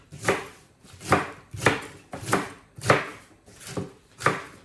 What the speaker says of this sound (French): j'ai mes poireaux que je vais de la même manière couper grossièrement comme ceci.